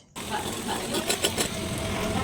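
Bites into a crispy oil-fried bread sandwich give a short run of crunches, several sharp crackly bursts close to the microphone after a brief silent start.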